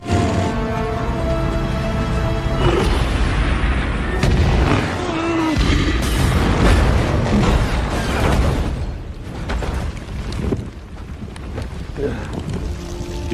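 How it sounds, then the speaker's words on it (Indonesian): Loud, dense roar and booming from a film scene where an oil tanker truck is rammed and blows up in a large explosion, with rumbling blasts and wind-like rush filling the whole stretch. "Di sana dia langsung menabrakkan truk pengisi minyak tersebut sehingga membuat ledakan yang cukup besar."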